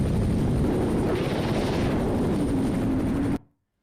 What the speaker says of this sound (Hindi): रूसी जंगी हेलीकॉप्टरों ने यूक्रेन की सेना के एक मजबूत गढ़ को तबाह कर दिया।